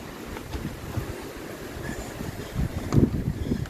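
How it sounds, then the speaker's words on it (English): Water runs beneath the Fuller covered bridge in a steady outdoor wash mixed with wind noise, with slightly louder swells of flow toward the end and no talk. "Running water."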